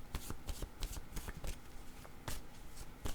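Tarot cards being shuffled, a rapid riffling flutter in quick bursts with short pauses, close and fairly quiet, with no talking.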